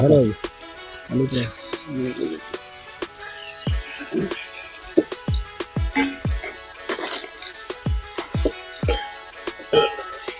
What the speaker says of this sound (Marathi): चिकनला व्यवस्थित तेलात परतवून घेतलेला आहे.